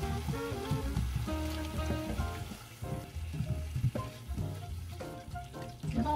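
Mentaiko pasta stir-fried in a pan with a pinch of peperoncino gives a steady close sizzle. It runs throughout under prominent tonal background music.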